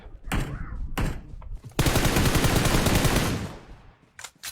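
Video game gunfire: a couple of sharp single shots, then a sustained rapid burst of automatic fire lasting about two seconds, followed by a few more isolated shots, loud and close.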